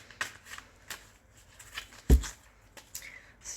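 Tarot cards are shuffled and pulled during a reading: a few soft, papery riffles and flicks, quiet and close, with one sharp snap near the middle.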